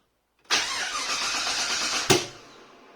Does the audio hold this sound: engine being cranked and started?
yes